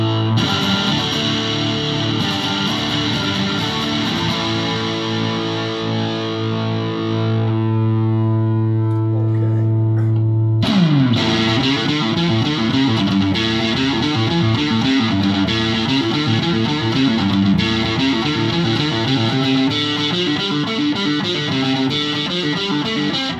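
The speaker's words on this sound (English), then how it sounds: "I'll pop it onto distortion now. You can have a listen what it sounds like cranked up." A used Danelectro DC59 electric guitar played through a distortion effect, with sustained chords ringing out, then a sharp new strum near the middle launching a thick, gritty, cranked-up passage that continues to the end.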